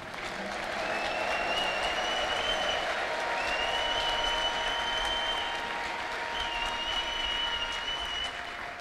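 A church congregation gives long, steady applause with loud, full clapping, and several high ululation trills rise and fall over it throughout.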